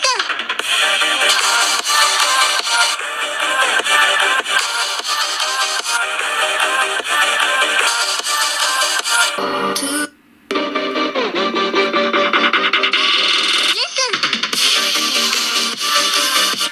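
A ringtone melody plays through a smartphone's loudspeaker, a continuous bright, busy tune that breaks off briefly near the middle and then resumes, loud and close with no talking.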